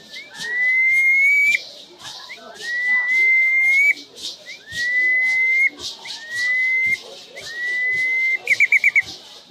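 A handmade bird whistle imitates the call of the anum, a black bird, giving five loud, close, rising whistled notes with short gaps between them, then a quick burst of chirps to finish.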